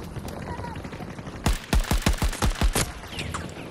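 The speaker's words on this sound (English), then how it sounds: "At that range, that was an SMG?" SMG gunfire in Battlefield 2042, a quick full-auto burst of about eight punchy shots in a steady rhythm, loud and close over low game ambience.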